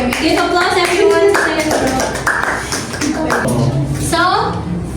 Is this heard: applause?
yes